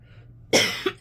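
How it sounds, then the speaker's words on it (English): A person coughs twice in quick succession, close and fairly loud, after a moment of near silence. "Man, they're making me cough."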